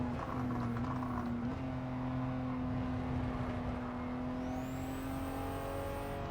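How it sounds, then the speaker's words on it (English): Gran Turismo 7 race car, a Honda S660 at Autopolis, running with a steady engine drone, then a brief whooshing blow-off valve release as it shifts gear, followed by a rising whine. "Very distinctive blow-off valve sound there as we change gear."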